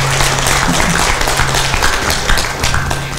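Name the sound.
audience applause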